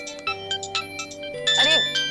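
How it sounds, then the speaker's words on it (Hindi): A phone ringtone chimes in short repeated bursts, then rises into a louder warbling tone, clear and close, with no talk during it. "चल, फोन आ रहा है यार"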